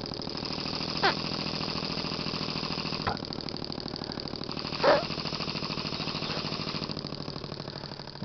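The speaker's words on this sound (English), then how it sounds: "this is a what's called a single acting oscillating steam engine" A small single-acting oscillating steam engine, a learning tool driven by blowing through a straw, runs with a fast, even mechanical chuffing rhythm. It sounds faint and close, with a few soft knocks.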